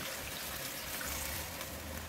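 Water streams steadily into a cooking pot of pork adobo with bay leaves, a continuous splashing pour at close range with no voices.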